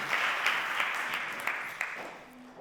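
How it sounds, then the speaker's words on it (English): A conference audience gives a round of applause, a steady moderate clatter of many hands that gradually thins and fades out. "One more round of applause."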